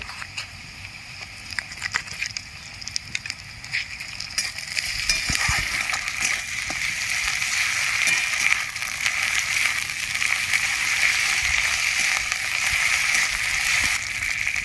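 Lightly browned onions sizzle in hot oil as ginger-garlic paste goes into the pan for a chicken curry, the frying rising to a loud, steady crackle after a few seconds, with occasional stirring scrapes.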